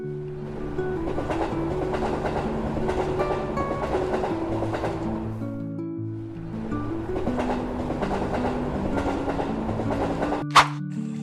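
A passenger train rolls along the rails with a steady rumble and rhythmic clickety-clack, briefly dipping before building again, ending with a sharp metallic clank.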